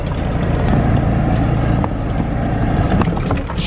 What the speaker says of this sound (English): Oh my, that was actually a nice skid